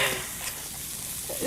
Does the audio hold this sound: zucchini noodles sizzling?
yes